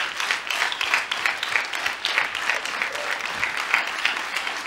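A studio audience on a 1996 Hungarian talk show applauds steadily, a dense, even wash of many hands clapping close and loud without a break.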